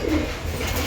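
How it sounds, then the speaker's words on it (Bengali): A Ghatal pigeon, recovered from a twisted-neck illness, gives one brief, low, throaty coo close by, soft but steady against faint background noise. "এই যে বন্ধুরা দেখুন এইটা হচ্ছে ঘাটটাল পায়রা"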